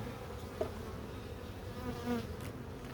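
Honeybee colony humming inside the hive, a low, continuous buzzing drone held steady and fairly faint throughout, with no voices.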